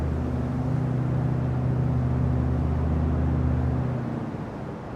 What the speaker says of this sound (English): pull the power back to idle. And hold the nose up so the aircraft just settles onto the runway